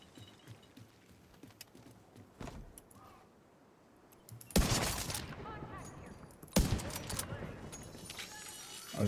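Two loud broadband gunshot blasts from long-distance shooting in a video game, separated by about two seconds, each with a ringing tail, over quieter game ambience and scattered clicks.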